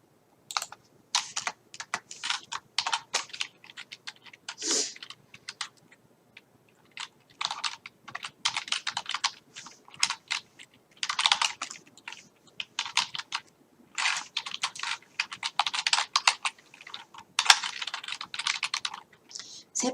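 Rapid bursts of keystrokes on a computer keyboard as a folder name is entered, clicking in uneven clusters with short pauses between words, close and fairly loud, no talking.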